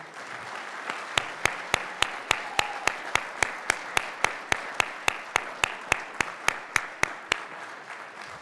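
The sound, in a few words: round of applause at a meeting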